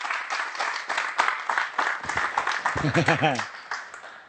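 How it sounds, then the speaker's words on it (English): An audience at a catch wrestling masterclass applauds Shamrock, a steady patter of clapping from a small crowd while a voice talks over it. "Let's give him a round of applause."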